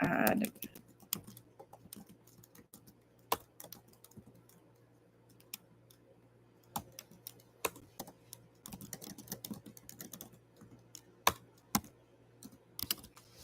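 Typing on a computer keyboard: close, irregular clicking keystrokes in quick bursts with short pauses, fairly quiet and with no talk.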